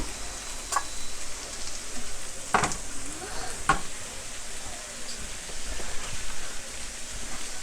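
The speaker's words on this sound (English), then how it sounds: "I'm going to use this red wine vinegar as a deglazing liquid" Red wine vinegar hits a hot pan to deglaze it, giving a steady crackling sizzle with bursts of popping and a few scraping clicks from stirring, close and continuous.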